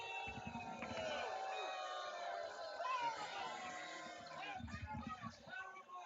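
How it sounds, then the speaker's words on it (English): Football match crowd at a Mt. Sinai game reacting to a penalty call, a dense continuous roar of voices with jeering and shouts that swells and dips throughout, loud and close, with no single voice standing out. "Crowd is booing on this one."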